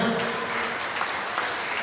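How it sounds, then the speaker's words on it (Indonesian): Delegates at a national assembly of the Merpati Putih martial arts association clap together in a dense, even burst of applause filling the short stretch. "Tepuk tangan dulu semuanya."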